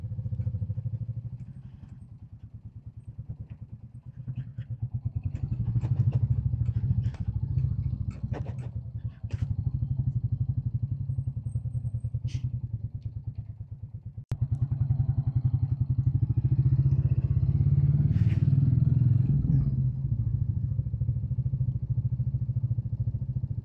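A Royal Enfield Classic 350 motorcycle riding over cobbles, a steady low thumping single-cylinder engine with rattling clatter and bumps from the rough surface, loud and close throughout.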